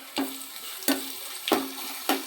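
Garlic paste dropped into a pan of browned onions for a spinach dish, giving four bursts of sizzle about every half to two-thirds of a second over a steady frying hiss, close and fairly loud, with no talking.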